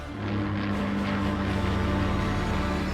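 A Hawker Hurricane fighter plane's engine droning steadily in flight, a loud, dense, low propeller roar that holds constant throughout.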